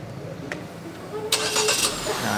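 Engine of a Wuling Almaz RS car starting remotely, a brief crank burst followed by a steady mid-range engine running, heard fairly close with a faint click beforehand.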